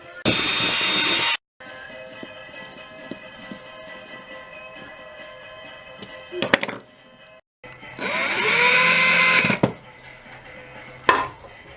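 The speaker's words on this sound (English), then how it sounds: "We're going to go around and drill holes with this little bit here." A small drill bit boring holes through a tin can, heard as two loud sustained bursts of high whining, grinding drilling separated by a quieter stretch with light handling clicks and knocks.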